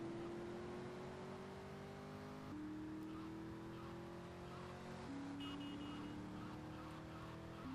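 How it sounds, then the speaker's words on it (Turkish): Sustained engine drone of a car drifting in GTA Vice City, with steady tonal whine that shifts pitch in steps, like gear changes, continuous and close with no talk. "Böyle hafif döndüğüm zaman araba Böyle drift yapıyor gibi ses yapıyor ya."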